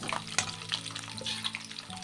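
Crushed garlic cloves hitting hot oil in a frying pan for a potato and amaranth leaf fry, a close crackling sizzle with a few sharp spits and pops, no voices.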